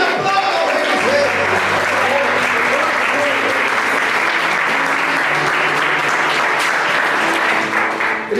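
Congregation applauding in church, dense sustained clapping from a large crowd that holds steady for several seconds, with a voice and sustained musical tones underneath.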